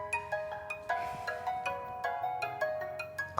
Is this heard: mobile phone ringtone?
yes